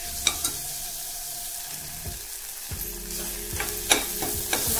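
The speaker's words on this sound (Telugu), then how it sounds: "టమాటా మొత్తం మెత్తగా అయ్యే వరకు ఫ్రై చేసుకోవాలి." Chopped tomatoes frying in a pan for a sprouts curry, a steady close sizzle broken by a few scraping stirs of a spoon, with no talking.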